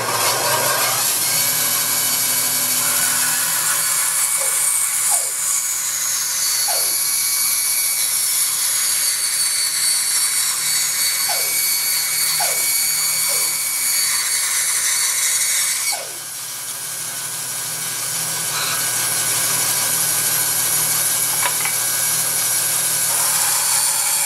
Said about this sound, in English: I really like using a bandsaw as opposed to a table saw.